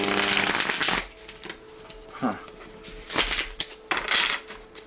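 Light Seers tarot deck being shuffled by hand, with several close, crisp riffling bursts separated by short pauses.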